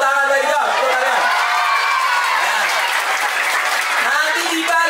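Audience applause fills a one-day English and character camp event, steady loud clapping from a large group with scattered voices and cheers mixed in throughout.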